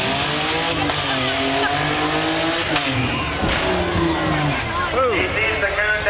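A race car at a motorsports park throws itself through a figure eight maneuver, engine roaring steadily and loudly with tires squealing and skidding as it turns.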